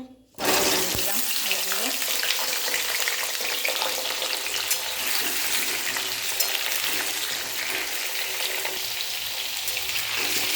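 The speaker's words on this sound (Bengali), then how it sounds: "এইগুলোকে দিয়ে দেব তেল গরম হয়ে গিয়েছে" Thick-cut potatoes drop into hot oil in a pan and fry with a loud, steady, close hiss and sizzle that fills the whole stretch, with faint talking underneath.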